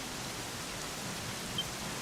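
Steady, dense rainfall in the video game Dragon Quest XI hisses evenly throughout, a constant wash of noise with no voices or distinct drops standing out.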